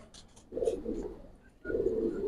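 A Giribaz pigeon in a loft gives two low, throaty coos, close and fairly soft, separated by a short pause with faint rustling before them.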